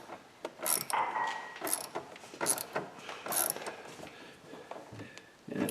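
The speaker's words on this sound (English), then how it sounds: "Undo this screw right down here. It holds the battery." Undoing the battery hold-down screw on a 2019 Ford Edge: quick bursts of ratchet clicking and metallic tool rattle in irregular runs, close up, with no talking.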